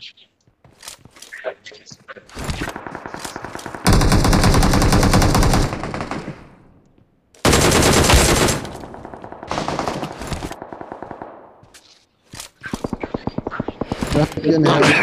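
Automatic gunfire from Battlegrounds Mobile India gameplay: loud sustained bursts and rapid single shots in several spaced volleys, with a player's voice talking between and over them.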